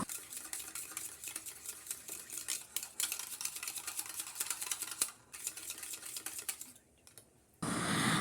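Sour yogurt (doi) being whisked in a bowl for a mango yogurt recipe, a steady scraping, tapping stir that runs continuously, then briefly drops away before a louder noisy burst at the end.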